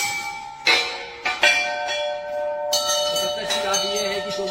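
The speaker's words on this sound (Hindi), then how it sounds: "24 घंटे वहाँ के दरबार में घंटियों की आवाज बंद नहीं होती" Bells ring at the Mata Janaki temple shrine at Karila Dham, several struck strikes with long sustained metallic tones overlapping and layering, fairly loud and close, with faint voices in the background.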